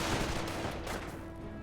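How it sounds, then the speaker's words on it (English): Artillery fire in a Company of Heroes battle: a dense, continuous rumble of distant shelling and gunfire, steady and moderately loud, with no talk. "Oh, Ooh, artillery and a sniper!"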